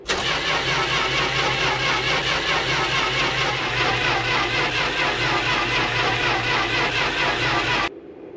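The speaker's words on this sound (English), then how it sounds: "All we had left to do was turn the key and start the car." A car engine in the game My Winter Car cranks and turns over loudly in a steady, unbroken rhythm for nearly eight seconds, then cuts off abruptly into quiet.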